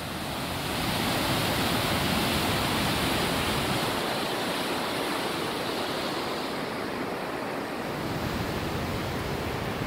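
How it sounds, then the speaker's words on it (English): The South Fork Yuba River runs high and cold in spring, a loud, steady rushing roar of water that continues without a break. "A lot of water coming down from over here."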